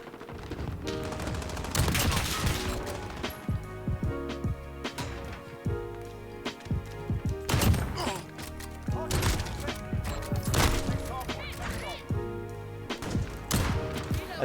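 Kar98K sniper rifle shots ring out in Call of Duty Modern Warfare, several sharp cracks spread across the clip amid other loud gunfire and game effects, with a voice talking faintly.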